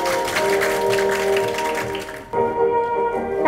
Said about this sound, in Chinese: 来，掌声鼓励鼓励。